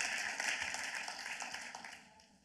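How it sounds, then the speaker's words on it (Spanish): Church congregation clapping for the Lord during a service, a steady wash of many hands at moderate distance that fades out toward the end. "Le das aplauso fuerte al Señor"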